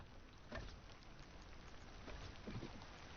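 Faint, steady video game rain hissing continuously at an island build site, with a few slightly louder patters.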